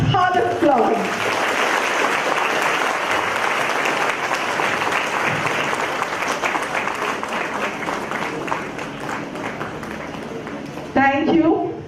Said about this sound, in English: I think they deserve a lot harder applause.